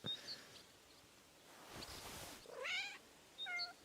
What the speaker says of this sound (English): It sounds like I just hit a cat in the distance.